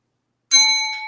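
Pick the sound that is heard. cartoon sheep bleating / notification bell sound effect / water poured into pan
notification bell sound effect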